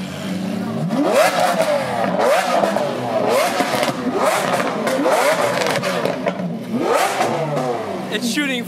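Lamborghini Aventador engines rev hard again and again at a car meet, roaring up in quick rising bursts, close by, with chatter and street noise underneath.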